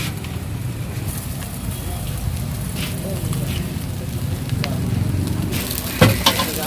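Boiled noodles go into a pan of sizzling sautéed prawn noodle mix, a close crackling fry throughout, with a louder clatter near the end as they are tossed.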